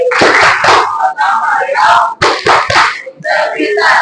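A group of children and teachers chants the Tepuk PPK clapping routine in a classroom, with rhythmic hand claps and loud shouted voices in bursts, separated by short pauses.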